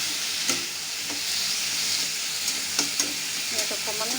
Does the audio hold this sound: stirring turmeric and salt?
yes